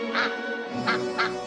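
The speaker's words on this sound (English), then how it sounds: "Mother Duck was delighted to see her first baby duck come out of the shell" A duck quacks three times, a single quack then a quick pair, clear and close over a faint sustained musical tone.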